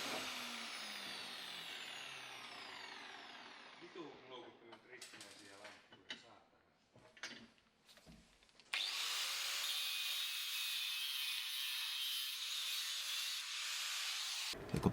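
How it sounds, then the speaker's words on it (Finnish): An ordinary angle grinder cuts a metal fitting for the turbo oil and coolant lines on a BMW M50/M52 engine. Scraping and handling noises come first, then a loud, steady, high whine of grinding runs to the end. "Leikkaaminen tapahtuu ihan perusrälläkällä."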